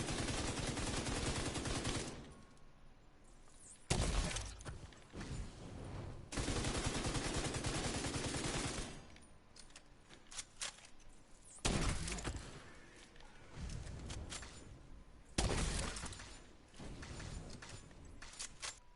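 Gunfire in The Division 2 video game, with long bursts of rapid shooting broken by short pauses, heavy and loud, repeated several times with no talking.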